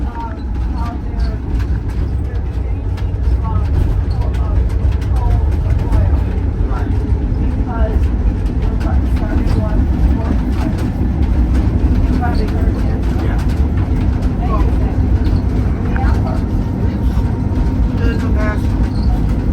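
Cab ride aboard an EMD SW8 diesel switcher locomotive on the San Luis Central Railroad, crawling along at low speed: a loud, constant engine rumble with rattling and clanking of the cab, steady throughout.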